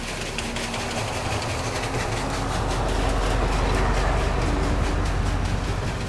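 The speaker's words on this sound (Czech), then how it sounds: "Tady jezdí vláček" A small train rumbles past close by near Hřensko, Czech Republic, its rhythmic clickety-clack steadily growing louder over a continuous low roar.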